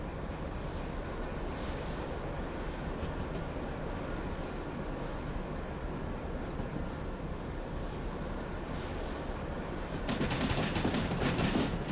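A train in the Derail Valley game rolls along the rails with a steady rumbling drone, joined near the end by a louder burst of hissing noise, with no talking.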